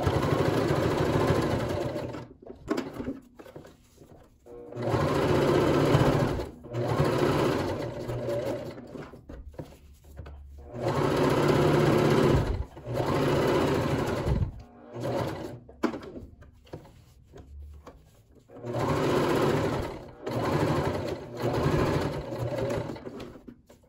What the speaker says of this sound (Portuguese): Vou costurar aqui em volta, deixando uma abertura para desvirar.